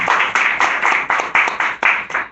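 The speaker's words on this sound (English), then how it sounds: "So you can give them a round of applause" An audience at an evening panel discussion on police brutality in Dallas claps for four panelists, a brief, close, steady patter of applause from a small crowd.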